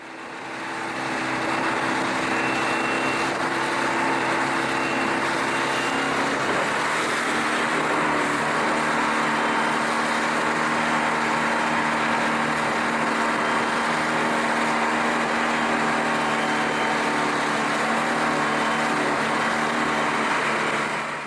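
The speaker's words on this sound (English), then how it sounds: "Gordon had a new 30 horsepower Taynuilt 4-stroke in the Virago, complete with electric start and power trim and tilt" Steady droning 30 horsepower four-stroke outboard motor on an inflatable boat at sea, running continuously at a constant pitch, with a broad wash of wind and water noise throughout.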